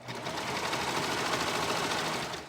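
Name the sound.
sewing machine sewing elastic onto swimsuit bottoms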